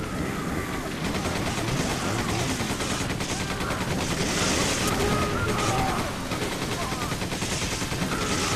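Rapid gunfire from the Resident Evil 5 video game rattles continuously in bursts over game ambience, loud and busy throughout.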